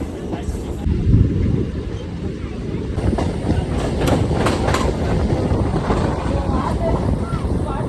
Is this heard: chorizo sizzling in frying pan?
no